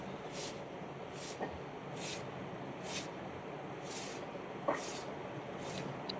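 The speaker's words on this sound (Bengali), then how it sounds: "ভেন্ডিগুলো দেখুন আমি কেমন করে কেটে নিচ্ছি" A knife slices okra in a faint, regular series of about eight crisp, hissy cuts, roughly one every half second, over quiet background noise and with no speech.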